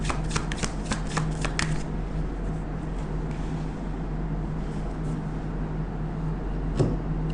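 Tarot cards are shuffled in a quick burst of crisp riffling flicks over the first two seconds, followed by softer rustling and handling against steady low background hum, with one more sharp snap near the end.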